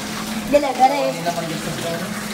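A tap runs in a steady, close gushing stream with a few brief splashes, during a typhoon with water delivery on hand.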